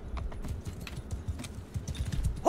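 Cavalry horses galloping in the Mount and Blade 2 Bannerlord video game, with rapid overlapping hoofbeats drumming in a continuous rolling rhythm at moderate loudness.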